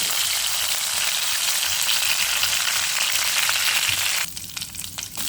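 Curry leaves sizzle steadily in hot oil with chana dal and urad dal for uppittu, a loud, dense crackling hiss that holds for several seconds before briefly easing near the end.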